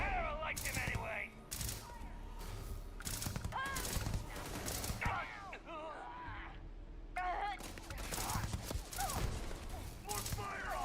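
Gunfire in the space game Starfield, repeated sharp bursts of shots between short pauses, with people talking and in-game voices over and between the volleys.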